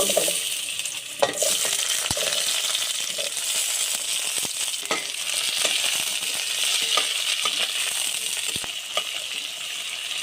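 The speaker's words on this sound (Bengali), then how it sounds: "একটু নাড়িয়ে নেব ভেজে নেব সবজি" Vegetables fry in oil seasoned with bay leaf, panch phoron and dried red chillies, giving a steady, close sizzle throughout, with the scrape and clink of a spoon stirring the pan.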